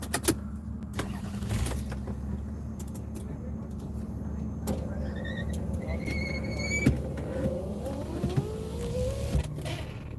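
Car power window motor whirring as the glass moves, a smooth rising electric whine over road and engine noise inside the vehicle, with a few thumps and clicks along the way.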